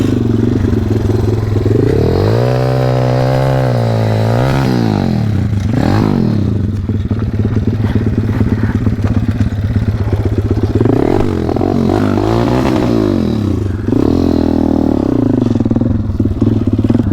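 A WPB 190 dirt bike fitted with a 17-tooth front sprocket runs on wooded trails. The engine is loud and close, revving up and down repeatedly with rising and falling pitch and some mechanical clatter, and there is no talking.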